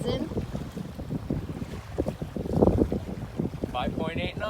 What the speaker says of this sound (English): Listen to the lapping sounds.